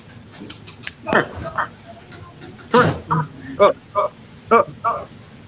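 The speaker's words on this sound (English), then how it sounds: "Better not bark like that." Several excited dogs bark indoors in sharp, loud, separate yaps spaced irregularly over a few seconds, with a person talking between the barks.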